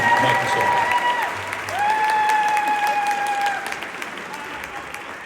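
Audience applause with scattered cheering greets candidates being introduced at a 2025 gubernatorial forum in Essex County, a steady, full crowd sound that swells again midway and then gradually thins toward the end.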